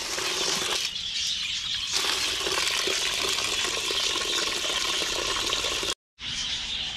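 Items are rinsed under running water while a septic tank is being treated, with a steady wash of splashing and flowing water, close and continuous, briefly cutting out near the end.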